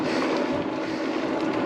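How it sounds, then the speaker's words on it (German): Strong headwind buffeting the microphone of a rider on a city fat-tire e-bike: a loud, steady, broadband roar that stays constant throughout, with no voices. "Es bläst richtig von vorne."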